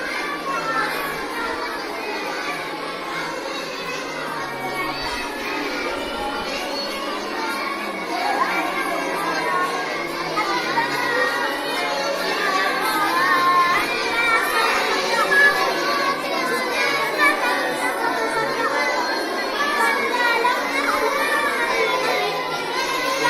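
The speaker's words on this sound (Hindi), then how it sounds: "देखिए तलबा पढ़ रहे हैं।" Many madrasa students recite their lessons aloud together indoors, a steady dense murmur of young voices that rises slightly in the second half and continues throughout.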